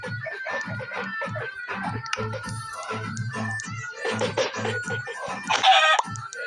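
Several chickens cluck nearby in irregular bursts, with a louder squawk near the end.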